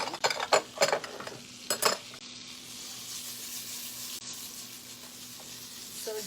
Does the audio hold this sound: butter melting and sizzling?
yes